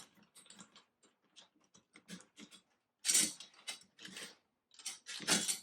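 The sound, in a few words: screwing drum tension rods into the threads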